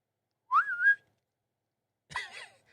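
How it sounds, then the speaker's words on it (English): A person whistles two short phrases close by, a rising slide then a warbling burst, separated by a second of silence. "Sorry if I like whistled in your ears"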